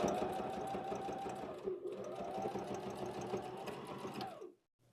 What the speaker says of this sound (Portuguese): a gente vai passar uma costurinha com o pontinho número 4 de segurança aqui na bordinha